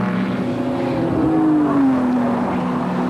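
Production race cars at Amaroo Park roar past in a continuous loud engine drone, one engine note sliding slowly downward as a car passes, heard fairly close with no talk.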